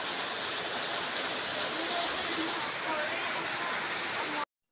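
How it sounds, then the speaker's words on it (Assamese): Heavy rain pours down in a dense, steady roar of hiss and patter that stays constant and loud before cutting off abruptly at the end. "সেয়া বৰষুণ, সেয়া বৰষুণৰ পৰা একদম মানে অৱস্থা নোহোৱা হৈ আছে।"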